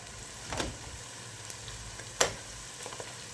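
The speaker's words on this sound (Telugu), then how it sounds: "ఆనియన్ కొంచెం మగ్గిన తర్వాత కరివేపాకు ఎండుమిర్చి వేసుకుందాం" Curry leaves and dried red chilies drop into hot peanut oil with softened onion for a Rayalaseema fish curry, giving a quiet steady sizzle with a couple of sharper crackling pops and no talking.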